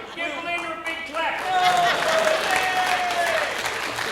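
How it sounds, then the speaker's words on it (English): An audience at a live comedy show in 2001 applauds, with steady clapping that swells partway through and a voice talking over it. "Give Belinda a big clap."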